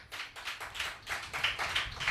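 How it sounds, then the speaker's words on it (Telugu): A church congregation claps in a rhythmic, steady beat, roughly four to five claps per second, moderately loud and close, with no voices over it. "నమ్మిన వాళ్ళు చప్పట్లు పట్టండి."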